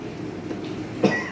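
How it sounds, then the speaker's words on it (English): A patient gives a single short cough near the end, heard faintly under a quiet room background during a liver ultrasound scan. "The patient is coughing."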